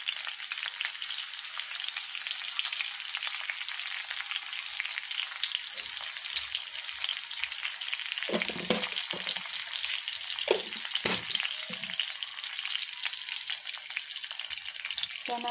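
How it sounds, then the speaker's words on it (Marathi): Garlic and green chillies fry in a pan with a steady, bright sizzle, punctuated by a few low clunks of stirring against the pan. "तर लसूण थोडासा लालसर झाला की त्यामध्ये आपण आता थोडीशी हिरवी मिरची टाकून घेणार आहोत."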